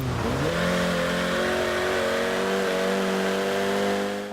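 A small four-cylinder car engine in Forza Horizon 4 revs up steadily, with a strong, continuous rising engine tone that holds loud and close, with no talk.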